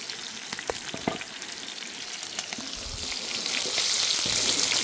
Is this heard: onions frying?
yes